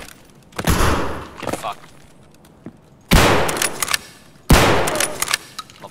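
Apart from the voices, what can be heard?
TOZ shotgun shots in video game Escape from Tarkov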